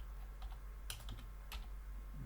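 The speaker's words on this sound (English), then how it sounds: "just let me type something out" Quick, light keystrokes on a computer keyboard come in two short bursts of a few clicks each, close by and fairly faint over a low steady hum, with no voices.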